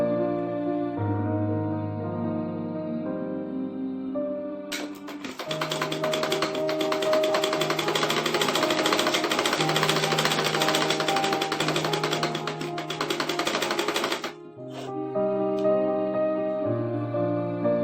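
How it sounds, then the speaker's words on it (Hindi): Sewing machine stitching along the edge of saree fabric, a steady whirring run of about ten seconds, close and loud, with quieter pauses and tonal sounds before and after. "इसको इस तरह से रखकर और बिल्कुल किनारे किनारे पे हम इसकी सिलाई लगाएंगे"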